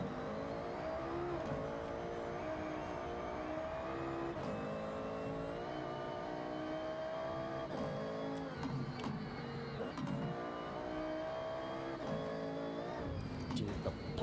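An Audi S1 races in the Forza Horizon 6 video game, its engine note whining and revving steadily with gear changes, and short sharp exhaust pops scattered through.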